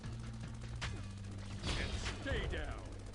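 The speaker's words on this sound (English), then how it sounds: "And the base's, you know, large cannon kicks in as well." A large base cannon fires in the tower-defense game OTTTD, level The Pits, as booming blasts over a steady droning game soundtrack, with a burst of heavy gunfire-like impacts midway and another toward the end.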